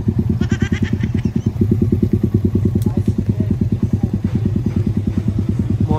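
A Fortress 160 motorcycle rides at night, its engine pulsing in a fast, even, throbbing rhythm up close and loud, with brief rattles and crackles over the top.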